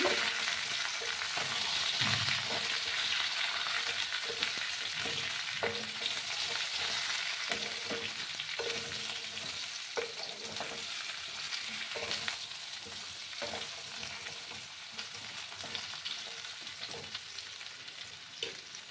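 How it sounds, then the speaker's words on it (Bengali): Ridge gourd and potatoes frying in a pan for a rohu fish curry, stirred with a spoon: a steady close sizzle broken by repeated scraping stir strokes, gradually quieting, with no voices. "এবার আমি এই ঝিঙেগুলো দিয়ে দেবো। ভালো করে আমি মিশিয়ে নিচ্ছি।"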